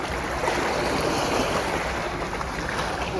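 Water washing and lapping at the shoreline at Belém in Lisbon, a steady, close wash of small waves with a constant broadband hiss and no talking.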